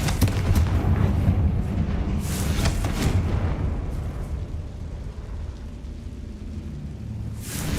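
Confringo blasting spell in Hogwarts Legacy, a heavy booming explosion with rumbling low roar and crackling debris bursts that linger and slowly fade over several seconds.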